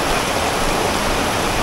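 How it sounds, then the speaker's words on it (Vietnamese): Heavy rain pouring down in Nha Trang, a dense, loud, continuous hiss of water splashing on surfaces, steady throughout with nothing else standing out. "là nước mưa nó tạt, không thể tưởng tượng lượng mưa lớn như vậy"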